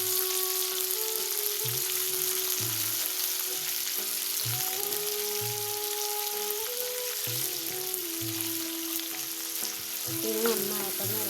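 Shallots, onion, green chili and tomato frying and being stirred in a pan, a continuous bright sizzle with faint scraping while a soft melodic tune plays in the background and nobody speaks.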